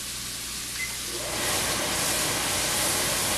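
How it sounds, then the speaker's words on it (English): Minced button mushrooms sizzle in a hot pan as they sauté to drive off moisture, a steady broadband hiss that grows louder and fuller partway through. "I'm going to saute those mushrooms"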